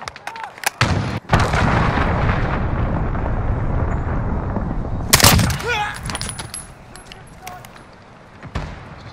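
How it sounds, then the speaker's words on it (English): A cruise missile strike in the Call of Duty video game gives a loud, sustained rumbling barrage of explosions, with a sharper blast midway and scattered pops before it fades. "Allied cruise missile away."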